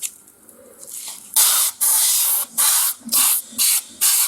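Spray gun laying primer onto car wheels: a quiet lead-in, then six loud, close hissing bursts in a steady rhythm, each about half a second with short gaps between.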